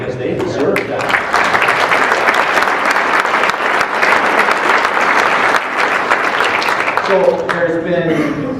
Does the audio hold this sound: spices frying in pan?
no